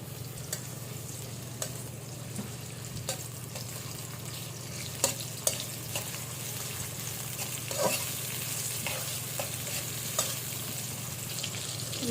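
Chopped onions, about a cup, frying in oil left over from frying fish, a steady close sizzle with occasional clicks and stirring taps, no speech.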